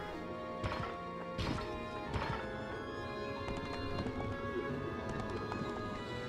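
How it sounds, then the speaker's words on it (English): Horse units move across the map in Fire Emblem: Path of Radiance, giving steady game hoofbeat clops and a few sharper hits over a dense, continuous music-filled background with no talk. "And these horse units are moving as well."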